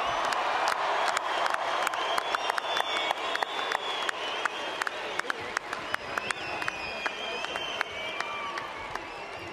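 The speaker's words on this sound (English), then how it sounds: "Another big round of applause for the player of the match tonight" A crowd at the New Zealand Kiwis ANZAC Test presentation applauds player of the match Manu Vatuvei: dense, sustained clapping with scattered cheers and whistles, steady and loud for the whole stretch.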